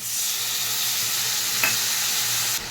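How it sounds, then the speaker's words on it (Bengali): Steady loud sizzling of raw banana, sweet potato and potato frying in a pan with turmeric powder and ginger paste, with a brief clink of stirring partway through; no voices. "এটাকেও ভালো করে মিশিয়ে নিচ্ছি আমি একবারে"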